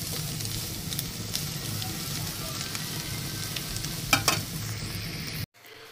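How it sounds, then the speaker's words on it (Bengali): Sautéed vegetables with cucumber stirred in a pan, an even sizzle with scraping spatula strokes and a couple of sharper clinks, close and steady before cutting off abruptly near the end. "এটাকে নাড়াচাড়া করবো, কারণ শসাকে আমরা বেশিক্ষণ রান্না করব না, যেহেতু সতে ভেজিটেবল।"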